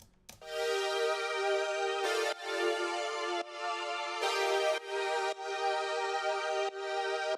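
Big, spacious, layered synth pad playing sustained chords that change every second or so, rich and full, with no voices over it.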